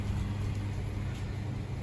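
A Honda City running on CNG, just repaired after a leaking injector made the engine stumble, drives off as a low, steady, fairly faint engine rumble.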